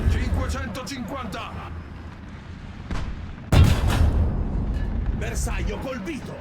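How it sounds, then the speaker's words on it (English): A tank in a video game fires an APDS shell with one sharp, heavy boom, preceded by a softer thud and followed by a rolling rumble, with engine noise and clatter around it. "Our APDS shell has indeed penetrated him, but has not damaged him severely."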